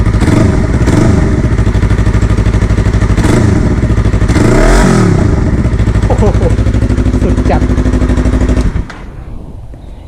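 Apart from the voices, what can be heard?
Yamaha YZF-R3 motorcycle engine with aftermarket exhaust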